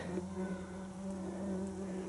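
Flies buzz steadily and close around a cyclist on a countryside bike tour, a continuous droning hum with no talking.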